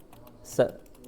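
Typing on a computer keyboard during MS Word data entry: soft key clicks with one sharper, louder keystroke in the middle, close by, with a voice speaking in the background.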